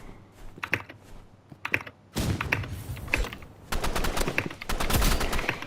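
Rapid bursts of gunfire and heavy blasts from a bazooka in the shooter video game Rivals, with sparse shots at first, then dense, loud volleys of repeated explosive fire filling the second half.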